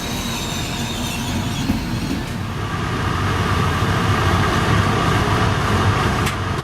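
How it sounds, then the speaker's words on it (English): Trenitalia Intercity train running toward La Spezia, a steady rumbling roll with wheel clatter and faint squeal, continuous and close throughout as heard from on board. "Our final leg to La Spezia was on an Intercity train"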